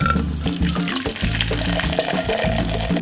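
Freshly boiled water pours from a kettle into a measuring cup, a steady close splashing fill that runs for a few seconds, with no talking.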